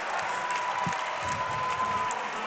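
Basketball crowd at a Penn vs Concord game applauding and cheering after a basket, a steady dense wash of clapping and crowd noise throughout, moderately distant.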